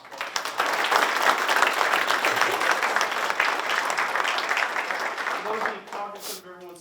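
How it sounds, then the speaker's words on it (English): Audience applause for Los Alamos County Manager Harry Burgess after his annual report presentation, a steady wash of many hands clapping that swells in quickly, holds, then fades as a voice begins to speak. "so let's all give Harry a round of applause."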